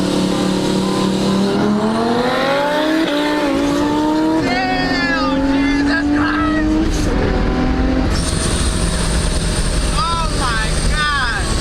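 A supercharged Infiniti G35 and an Audi R8 racing, heard from inside one car as a loud, continuous engine roar with rising gear-by-gear pitch sweeps and shift breaks, alone without talk.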